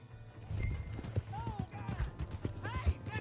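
Horse hooves clop in an uneven rhythm in the Western video game Red Dead Redemption 2, moderately close and mixed with brief vocal sounds and background noise.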